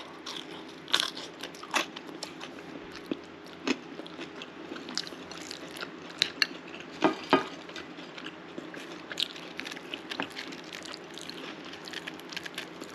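Close, fairly quiet chewing and crunching of French fries scooped through homemade wagyu beef chili with no beans, steady soft bites and small crackles with no talk.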